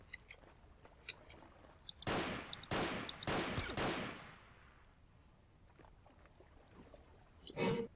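Gunshots from target practice in a video game, heard as a tight cluster of four or five sharp, loud reports with ringing decay, then quieter ambience and one more burst near the end.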